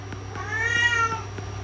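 A cat lets out one drawn-out, tonal meow over a steady low electrical hum, with no talking.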